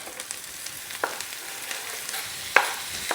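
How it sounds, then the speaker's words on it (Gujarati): Green chilies and capsicum stirred and fried in a pan, a soft continuous sizzle with occasional sharp scrapes and clinks of the spoon, close and fairly quiet. "હવે ગ્રીન ચીલીને આપણે થોડા મિક્સ કરી લઈશું"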